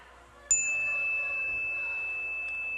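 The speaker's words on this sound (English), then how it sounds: "as the sound of this bell dissipates and fades into the cosmos" A meditation bell is struck once, sounding a clear sustained tone that rings on and slowly fades in a quiet room.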